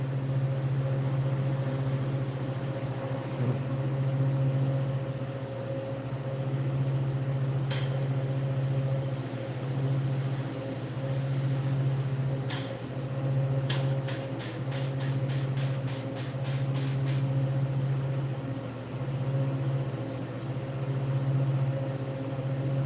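An airbrush sprays paint onto a realistic largemouth bass in different colors, with a loud, steady compressor hum and hiss running throughout and a few sharp clicks, no talking.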